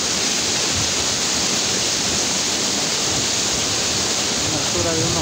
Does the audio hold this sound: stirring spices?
no